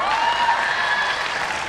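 Audience clapping at a Hindi poetry recital by Sunij Jogi, a steady, full burst of many hands heard up close throughout, with a faint voice-like tone mixed in early on.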